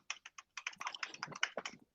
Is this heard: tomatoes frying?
no